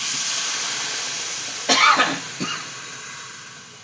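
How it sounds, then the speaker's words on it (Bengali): Warm water poured into a pan of spiced vegetables for a potato, pointed gourd and fish curry, giving a steady hiss with a short sizzling, bubbling burst partway through. "এবার উষ্ণ গরম জলটা দিয়ে দিই।"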